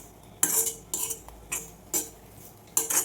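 Garlic and cumin fry in a pan on a home stove while a spoon scrapes and stirs in five sharp, bright bursts, with quiet pauses between them.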